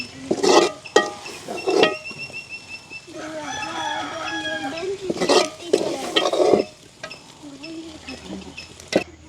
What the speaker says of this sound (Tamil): இதை வந்து இன்னொரு பாத்திரத்துக்கு அப்படியே மாற்றி எடுப்போம்